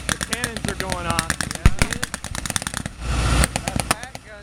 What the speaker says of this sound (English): That pack gun just fired again.